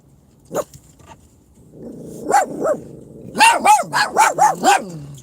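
A dog barks sharply several times, loud and close, with a faint low growl before a quick rhythmic run of barks.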